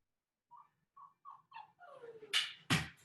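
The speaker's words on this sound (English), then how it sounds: "One of my dogs is whining because she wants all my attention" A dog whines for attention, a series of short, high whimpers at a steady rhythm that rise into two louder, sharper yelps, close by in a quiet room.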